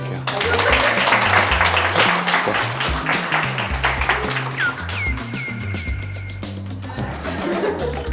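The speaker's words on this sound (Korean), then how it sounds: "우리 은재님께 큰 박수 부탁드릴게요" An audience applauds a volunteer at a physics magic show, steady dense clapping filling the room for several seconds while a voice speaks over it and a brief whistle-like tone rises midway.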